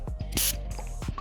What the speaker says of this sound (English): First spray.